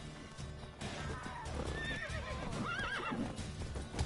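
A horse whinnies with a high, shaky neigh in the video game The Witcher 3: Wild Hunt over a busy background of hoof clatter and rumbling noise, fairly faint overall.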